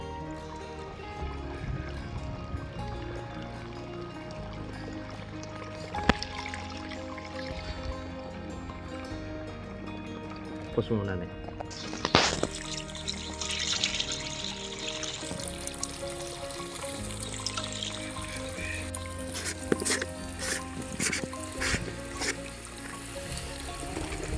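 Water pours and splashes steadily into a 20-liter electric sprayer tank as it is filled for mixing herbicide for rice paddies, growing louder and fuller partway through, with a brief spoken phrase near the start.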